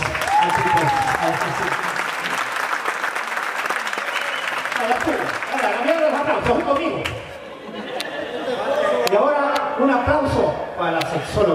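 An audience applauds, with dense clapping at first that thins out, mixed with chatter and a few chuckles, while a voice speaks over it.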